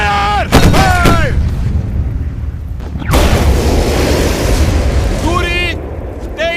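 Battleship cannons fire in a Hindi-dubbed Jackie Chan film, two heavy booming blasts with long rumbling tails, loud and close, between shouted voices.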